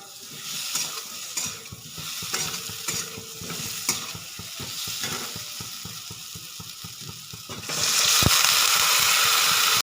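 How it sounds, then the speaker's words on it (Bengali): A spoon stirs and scrapes Kashmiri red chili masala frying in a pan with rapid rhythmic clacks, then water is poured in and a loud, bright hiss of sizzling bursts up and holds to the end. "মশলাটাকে ভালো করে কষে নেব হয়ে গেছে এবার দিয়ে দেব জল"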